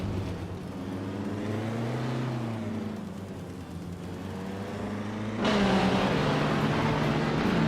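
Classic race cars, a Puma GTE among them, roar around a track in a video game: a steady engine drone that rises and falls in pitch, swelling louder and brighter near the end, with no talk.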